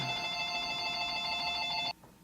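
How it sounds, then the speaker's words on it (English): A telephone rings with a steady electronic bell tone that lasts nearly two seconds and then cuts off abruptly. It sounds fairly faint, heard alone in a quiet workshop where a South Bend lathe is being restored. "Phone rang again."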